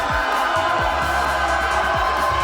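Spectators at the 120kg IPF World Juniors 2025 powerlifting championship keep up a dense, steady roar of cheering throughout, with a few low thumps beneath.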